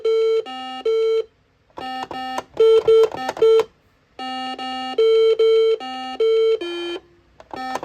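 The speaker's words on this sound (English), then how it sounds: "This game is very loud and rattly." A Star Wars Episode 1 Simon space battle electronic game sounds loud, bright electronic beep tones in quick repeated bursts with short gaps, played close and alone; no distinct rattle stands out from the beeps.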